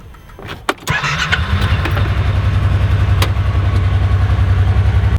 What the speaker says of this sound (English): Wait till this fires up. You guys are gonna love how it sounds.